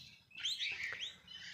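Birds chirp from a jackfruit tree beside a rooftop, a quick cluster of bright, high tweets that rise and fall over a quiet background.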